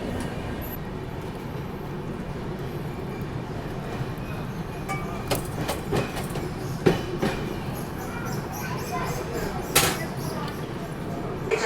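The West Bengal Sampark Kranti Express rumbles steadily along the rails with a constant onboard roar, occasional clickety-clack wheel knocks and brief metallic squeals over the track joints.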